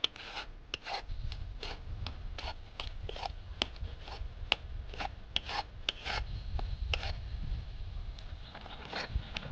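A spoon scrapes and rubs rhythmically against a pan while milk powder with lemon juice is stirred over a medium flame, giving quick repeated rasping strokes, close and steady with no talk.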